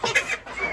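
Roosters and hens on a small farm with mixed poultry, a short burst of close clucking and crowing-like calls filling the moment with no voices.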